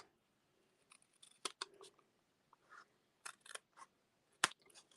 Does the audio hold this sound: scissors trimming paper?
yes